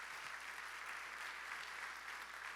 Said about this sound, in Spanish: De nuevo, dale a Dios un aplauso por eso.